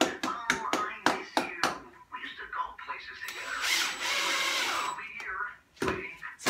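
A power drill drives screws to fix a tenon-cutting fixture onto a timber beam, whirring in a sustained burst of about a second and a half. Short hand and tool clicks come before it, and a person talks around it.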